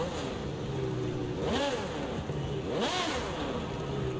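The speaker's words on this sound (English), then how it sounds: "It's a race car, so it should be much louder than your regular V12" An Italian V12 race car engine in Forza Horizon 5 idles with a droning hum, then revs sharply twice, each rev rising and falling back, loud and close.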